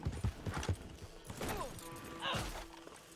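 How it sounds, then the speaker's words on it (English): In the Red Dead Redemption 2 online game, a horse's hooves clop in a quick irregular burst as a rider dismounts, followed by thuds, a brief whinny-like tone and scuffling clatter at moderate volume. "you can't even just get off a horse properly"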